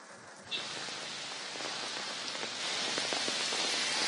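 Rain falls steadily on surfaces in Bengaluru, a dense hissing wash that swells slightly after the first half second and holds constant, with no voices.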